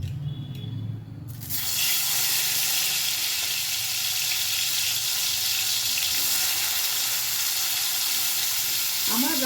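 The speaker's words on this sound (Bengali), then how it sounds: "এবার আমি কেটে রাখা উচ্ছেগুলোকে লবণ আর হলুদ মাখিয়ে ভেজে নেব বেশ লাল লাল করে" Bitter gourd pieces coated in salt and turmeric drop into hot mustard oil, and a loud, dense, steady sizzle starts suddenly after a short quiet opening, then carries on close and unbroken.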